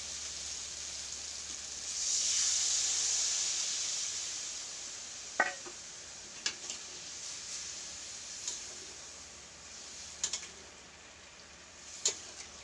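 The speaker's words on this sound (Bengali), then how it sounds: "এবার আমি জল দিয়ে দেবো।" Water goes into a pan of potatoes already fried with spices, raising a soft hiss that fades over several seconds, with scattered utensil clicks and taps at a moderate distance.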